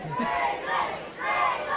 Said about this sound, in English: Split crowd here for the MCW faithful.